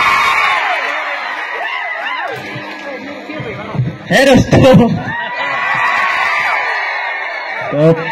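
Audience at the Kanaklata award 2021 ceremony cheering loudly, with whoops, yells and shouts from the crowd and a loud burst mid-way. Voices are heard throughout.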